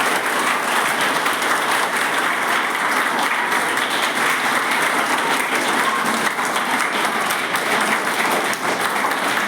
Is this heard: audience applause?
yes